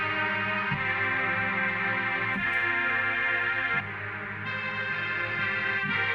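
Dense, lush analog synth pad imitating a string ensemble in library-music style, sustained chords shifting every second or two with a slightly distorted, echoing sheen and no talking.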